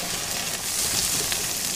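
Chopped carrots and beans sautéing in hot oil with ginger-garlic paste, a steady soft sizzle that runs evenly throughout at moderate volume.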